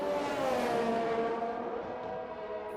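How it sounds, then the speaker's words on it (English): A pack of race cars roars past in a racing video game at a Mexico circuit, high engine whine loud at first and then tapering off as the cars pull away, with no voices. "And he'll join that massive DRS train now that has formed behind Dave Ewart"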